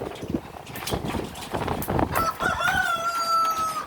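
A rooster crows loudly and close by in a long, steady call, with clucking fowl and shuffling movement underneath.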